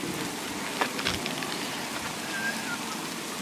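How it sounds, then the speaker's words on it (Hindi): Rain falls outdoors in Oman as a steady, even hiss with scattered droplet impacts, with no voices. "देखो इधर की बारिश है, सिर्फ मीठी मीठी बारिश शुरू हो गई है।"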